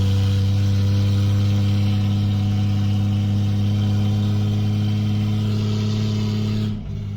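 A Lexus IS300 engine runs with a steady, close, low droning hum that holds an even pitch, then cuts off abruptly near the end.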